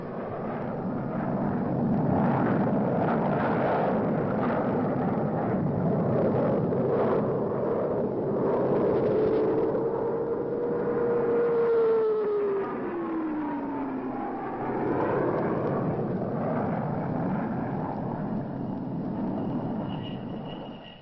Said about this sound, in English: American F-100 strafed enemy positions on the final objective.